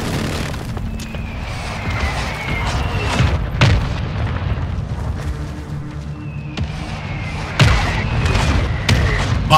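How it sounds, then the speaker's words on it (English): Airstrike explosions in Warzone 2.0 boom heavily, with a few sharp blasts standing out over a constant rumbling battlefield backdrop and a faint high whine passing overhead. "Friendly airstrike on the way."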